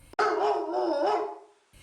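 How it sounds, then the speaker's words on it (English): Dogs bark loudly in a single sustained burst lasting over a second, close and clear, as a sound effect in a children's reading of The Aristocats, where two dogs leap out of a motorbike near a farm outside Paris. "two dogs leapt out of the motorbike, giving Edgar a terrible fright"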